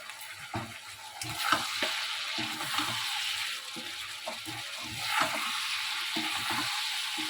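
Chilli chicken with soy sauce and sugar sizzling in a pan, the steady fry punctuated by repeated scraping stirs of a spatula, close and fairly loud.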